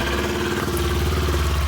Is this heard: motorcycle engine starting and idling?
yes